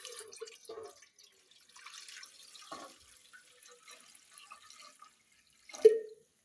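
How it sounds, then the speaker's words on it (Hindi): Water poured into a pot of sago pearls for a summer drink, heard as a few faint drips and trickles followed by one short, louder splash near the end, with no talking. "इसमें हम पानी ऐड करेंगे"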